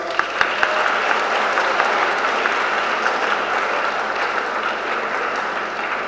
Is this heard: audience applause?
yes